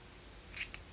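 A couple of short, crisp snips from blunt scissors close by, a quick double cut followed by a fainter single snip, against a quiet background.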